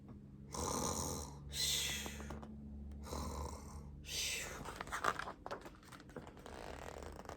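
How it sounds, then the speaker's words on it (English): Slow, raspy snoring breaths rise and fall in a steady rhythm, close and soft, with a few rustling sounds. "the old man is snoring"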